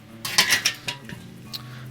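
Lid of a kettle grill being opened and a bison tomahawk steak handled, a few clattering metallic clanks and scrapes of grill hardware and tongs in quick succession, close by with a low background hum.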